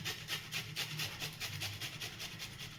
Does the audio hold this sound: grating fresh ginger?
yes